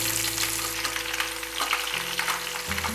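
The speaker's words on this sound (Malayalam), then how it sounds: "സവാള ഇട്ട് കൊടുത്തിട്ട് നമുക്കൊന്ന് നല്ലോണം വഴറ്റണം" Four lengthwise-sliced onions sauté in hot oil with popped mustard seeds for a Kerala-style beef curry, giving a steady, dense frying sizzle with occasional stirring scrapes, no voices.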